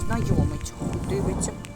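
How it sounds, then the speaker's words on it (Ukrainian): Thunder rumbles low and continuous through a heavy downpour in Zaporizhzhia, with rain noise and a speaking voice over it throughout. "Ну Це грім точно"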